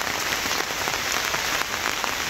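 Steady rain falls on a farm with papaya plants during a long spell of wet weather, making a dense, even patter with no pauses.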